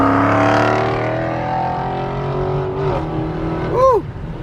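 A Jeep SRT8 engine roars loud and close, a sustained high rev that sweeps down, then a quick blip and rise near the end; voices briefly over it.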